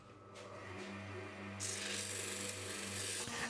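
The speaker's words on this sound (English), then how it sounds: "And once again, sanding till forever." Steady abrasive rasping of sanding on an olive wood and resin box turning on a lathe, continuous and close, with a low motor hum running underneath throughout.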